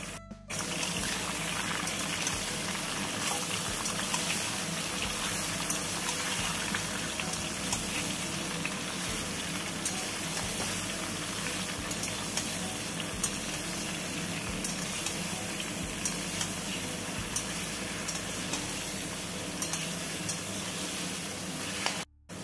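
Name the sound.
raw mango pieces stirred and frying in oil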